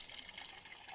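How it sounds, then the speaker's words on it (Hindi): Natural spring water flowing steadily from a hillside source near Ranikhet, a continuous close hiss and splash with no talk. "ऑटोमेटिक आ रहा है जितना पानी आ रहा है।"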